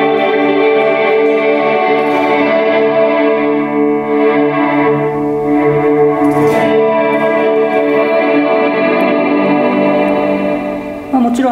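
Electric guitar sustaining chords through a Strymon BigSky reverb pedal, with an expression pedal pushing up the effect mix, producing a loud, continuous wash of lush reverb with shimmering tails and no talking.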